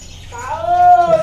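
A caged pet bird offered for sale gives a single short, clear tonal call rising then holding steady, close and fairly loud against a quiet background.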